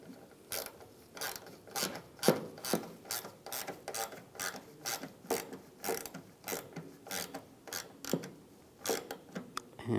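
Ratchet tightening bolts on the wiper transmission of a 2007-2013 Chevy Silverado, a quick run of close, crisp clicking strokes in a steady rhythm with brief pauses between pulls.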